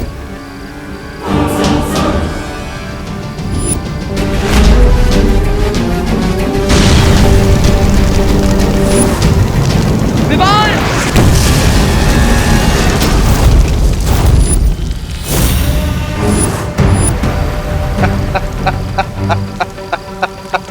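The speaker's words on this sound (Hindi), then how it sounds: "इस गोले से बचो, इस तोप का वार बहुत खतरनाक है।" Cannon blasts from a Baalveer fantasy TV scene boom out as dramatic sound effects, several heavy thuds layered with sweeping effects and music throughout.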